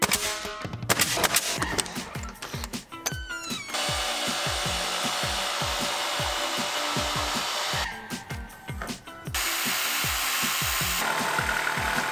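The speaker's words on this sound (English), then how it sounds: "Give it a little sand." Sanding a wooden piece with a power sander, a loud steady whir that stops and restarts, with scraping and knocking handling noises during the pauses.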